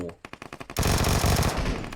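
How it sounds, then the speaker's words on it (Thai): Rapid machine-gun bursts in the PUBG Mobile battle royale game: spaced single shots at first, then a sustained loud automatic burst that dominates the second half, close and sharp. "เสียงปืนทางซ้ายใกล้เราครับ"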